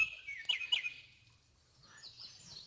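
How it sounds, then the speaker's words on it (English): Songbirds chirp outdoors in the morning, a few quick bright tweets near the start followed by fainter, more distant calls against a quiet background. "Listen to the birds chirp."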